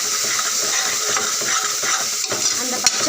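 Turmeric and fish curry masala are stirred in a pan for a South Indian crab gravy, with a constant close sizzle and repeated scraping strokes of a spoon, plus a brief metallic clink near the end.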